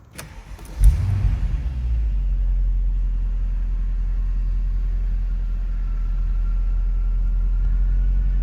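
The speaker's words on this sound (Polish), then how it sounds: "Ale piękny dźwięk ma ten silnik" A 2007 Mercedes-Benz CL 63 AMG with its 6.2-litre V8 fires up with a sharp burst, then settles into a loud, steady, deep idle rumble that continues unbroken with no talking.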